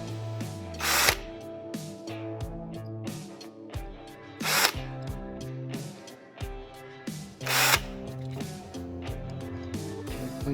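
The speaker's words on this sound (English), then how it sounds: "So I have a deburring tool for my drill. I'll just touch those up." Power drill spinning a deburring bit to smooth the sharp edges of holes drilled in metal spoon fishing lure blades, in repeated short whirring bursts with brief pauses and touches of contact between them.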